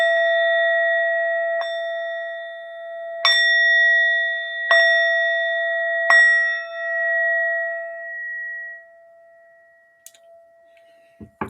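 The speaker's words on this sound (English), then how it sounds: "I gotta ring my bell or something and clear the air." A small bell is struck about five times at irregular intervals, each ding clear and ringing with a long sustained decay that fades out near the end, with no talking over it.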